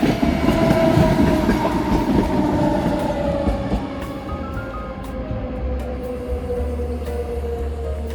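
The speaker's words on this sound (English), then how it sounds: "And there's a train." A train runs along a railway line beside an overnight stop in Austria, a loud sustained rumble with rolling wheel and rail noise that slowly fades as it passes, no voices over it.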